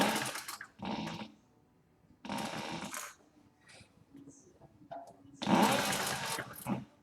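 A sewing machine stitches a straight line across a canvas and leather tote bag, running in several bursts of rapid whirring with short pauses between, close and fairly loud.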